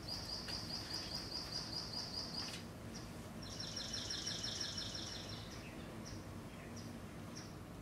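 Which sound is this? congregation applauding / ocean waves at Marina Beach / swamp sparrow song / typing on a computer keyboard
swamp sparrow song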